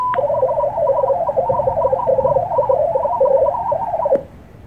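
Olivia 8/500 digital radio mode signal centred near 800 hertz, a steady warbling sequence of quick tones hopping between pitches over background hiss, ending with a click.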